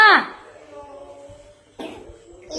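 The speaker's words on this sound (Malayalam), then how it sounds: "കുഞ്ഞിപ്പെണ്ണ് ചുമക്കണേ" A little girl coughs, one loud, sharp burst at the start followed by quieter rough bursts later, close to the listener.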